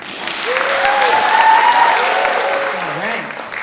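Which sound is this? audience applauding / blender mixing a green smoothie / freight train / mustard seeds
audience applauding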